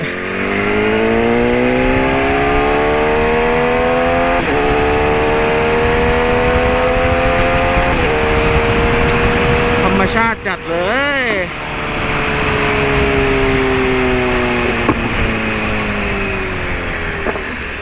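A BMW S1000RR motorcycle is ridden on the road, its engine holding a loud, steady high-pitched drone that dips and climbs again through a gear change midway, close to the rider.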